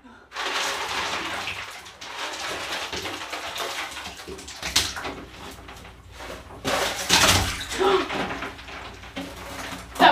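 Large chunks of ice tipped from a big bucket into an already cold water bath, giving loud splashing and sloshing bursts that come in waves, with people talking over them.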